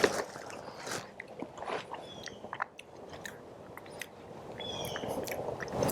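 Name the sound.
eating MRE diced pears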